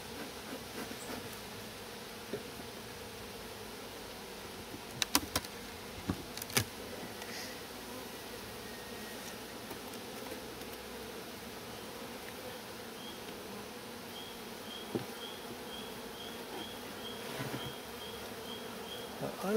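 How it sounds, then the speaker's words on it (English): Honey bees buzzing inside an opened beehive at an apiary, a steady dense hum throughout, with a few brief knocks and clicks of handling and faint high chirps near the end. "Full of bees, that's for sure."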